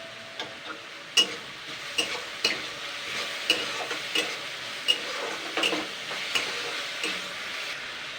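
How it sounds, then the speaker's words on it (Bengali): Potatoes frying in a pan with salt, sugar and a pinch of turmeric, a soft continuous sizzle broken by regular scraping stirs and light clinks of a spatula against the pan. "নুন চিনিটা দিয়ে আমি আবারও 2-3 মিনিট হালকা ভেজে নেবো।"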